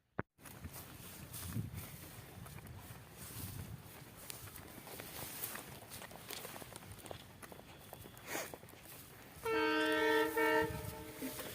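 A train runs on a railway line near Sultanganj and gives a loud, sustained horn blast, with rumbling rails and nearby footsteps beneath it.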